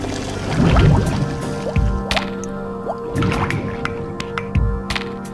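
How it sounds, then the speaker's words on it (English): Warm water boils inside an evacuated vacuum chamber, as in Boyle's air pump experiments, giving close, irregular bubbling plops, drips and gurgles with short quiet gaps between bursts and no talking. "Water that was only warm started to boil."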